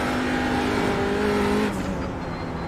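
A TCR race car in a racing game screams at full throttle on the Nordschleife at night, a loud, steady engine roar that drops in pitch partway through as it shifts, with no voices.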